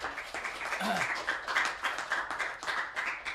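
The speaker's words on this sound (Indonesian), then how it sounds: "Tepuk tangan untuk Mbak Eka Jemengdu" Audience applause at an Indonesian school arts event, dense steady clapping from a crowd filling the room, with a voice or two briefly audible amid it.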